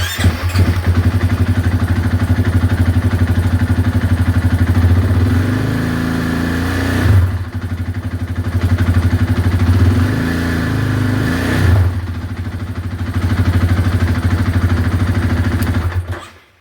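A KTM 500 motorcycle engine runs loudly nearby, revving up and down in repeated swells with brief dips between, then cuts out at the end.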